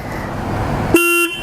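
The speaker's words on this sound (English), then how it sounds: "So let's test out the horn." A Royal Enfield Himalayan 411 motorcycle gives one short, close, loud honk of its horn against quiet engine rumble.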